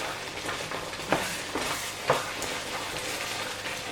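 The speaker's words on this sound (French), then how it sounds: "Donc on va bien mélanger." A thickening gingerbread sauce is stirred in a pot with melting gingerbread, giving a steady soft scraping and bubbling texture with two sharper knocks of the spoon against the pot.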